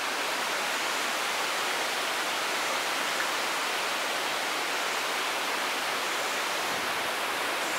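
The Aterno river rushing through the very narrow San Venanzio gorge in Abruzzo, Italy: a continuous, even hiss of flowing water with no breaks and no voices.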